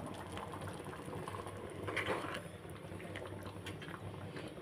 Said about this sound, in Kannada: ನಾನು ಮಿಕ್ಸಿ ಜಾರ್ಗೆ ವಾಟರ್ನ ಆ್ಯಡ್ ಮಾಡ್ತಾಯಿದ್ದೀನಿ.